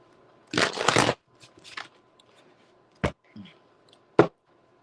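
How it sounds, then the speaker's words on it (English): Cards are shuffled in a quick riffle burst, followed by a few sharp taps and snaps as the deck is squared, close and crisp. "Let me quick shuffle."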